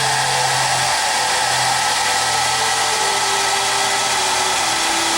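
A heat gun blows continuously to dry and stiffen clay pottery lids, a loud, steady whirring roar with a faint shifting tone, close and unbroken, with no voices.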